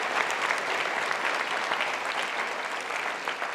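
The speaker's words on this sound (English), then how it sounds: "Give it up for Raymond Liu." Steady applause from a concert audience at a symphonic winds performance, a dense continuous clapping wash at moderate distance for a few seconds with no break.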